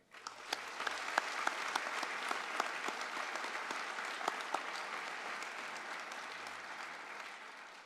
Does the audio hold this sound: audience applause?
yes